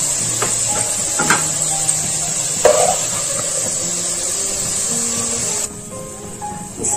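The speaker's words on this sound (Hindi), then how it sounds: "पूरे आलुओं को थोड़ा कलर आने तक तल के निकाल लेंगे।" Potato pieces frying in hot oil in a home kitchen, a steady bright sizzle that runs throughout at even loudness, with a few soft clinks and stirring taps, dropping slightly quieter near the end.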